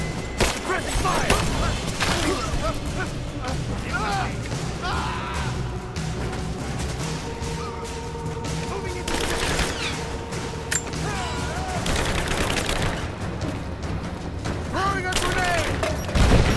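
Continuous gunfire and explosions from combat in the video game Rise of the Tomb Raider, a dense, loud barrage of shots and crashes with game effects throughout, and a voice heard faintly in the mix.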